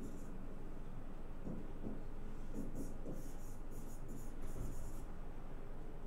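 A pen scratches out a handwritten signature: short, crisp, scratchy strokes clustered in a quick burst over a steady low background hum.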